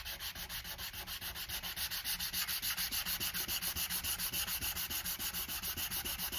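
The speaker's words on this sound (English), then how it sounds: "these are just the right hardness to flat sand that glue boost using 320 grit sandpaper without cutting through the surrounding area." Flat sanding a glue spot on a guitar finish with 320 grit sandpaper on a hard block, a close, steady rhythmic scrubbing of quick back-and-forth strokes with no talk.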